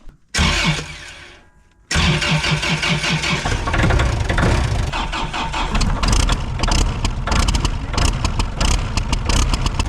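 An arctic dump cat or generator plant engine turns over on the starter during a cold start, first a brief crank burst, then a long loud run of grinding cranking with uneven engine catches, close up.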